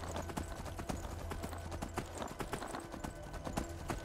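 A horse's hooves clip-clop in a steady, rapid rhythm in the video game Skyrim, close and continuous over a low droning background.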